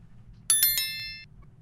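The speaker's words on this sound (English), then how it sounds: "click the notification bell" A bright bell-like notification ding rings out alone, a quick cluster of three or four metallic chimes that ring briefly and fade over about a second against a quiet background.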